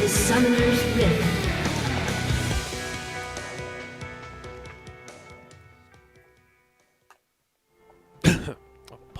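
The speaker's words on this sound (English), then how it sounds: "What, I coughed" One short, sharp cough from a League of Legends esports caster comes late, after a loud, rich broadcast sound fades into near silence.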